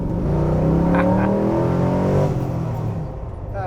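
A 1954 Chevy Thriftmaster pickup, restored and modified, revs hard through MagnaFlow mufflers, loud and close with rising engine harmonics that hold strong before easing off into a lower idle near the end.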